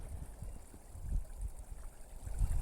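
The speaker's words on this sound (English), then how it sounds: "I don't know if you can hear the creek here" A small creek flowing on a day of light snowfall, a faint, low, steady burble and trickle of water with soft gurgling swells, distant and without speech.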